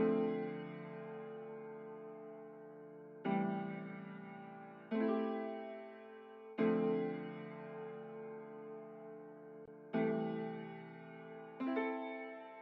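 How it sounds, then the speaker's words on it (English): Glassy plucked piano keys with a flanged, stereo vinyl-style effect in a smooth soulful R&B beat, playing sustained chords that strike anew about every two seconds and ring out between hits, with no voices. "This was like a glass plucked piano, and I added a flange stereo like vinyl effect"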